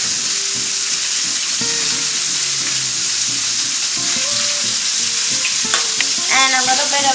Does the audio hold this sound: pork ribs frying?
yes